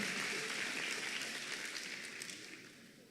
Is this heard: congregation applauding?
yes